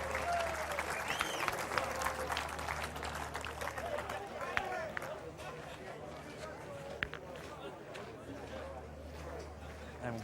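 Spectators at the Provençal 13 2014 pétanque final clap in a steady, moderate burst outdoors, mixed with crowd murmur and speech from people nearby.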